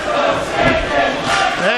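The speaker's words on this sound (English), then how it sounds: "And the fans at IWC cheering for the devil." Wrestling fans cheer at an IWC show during the Jason Gory vs Jock Samson match, a dense, steady roar of crowd noise that holds at an even loudness throughout.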